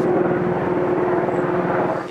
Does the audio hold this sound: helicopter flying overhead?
yes